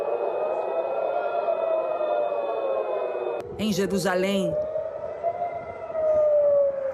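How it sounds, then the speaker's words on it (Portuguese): Air raid sirens wail across Israel during an Iranian ballistic missile attack, a steady rising-and-falling tone that holds throughout, with a news reporter speaking over it partway through. "As sirenes soaram em todo o país"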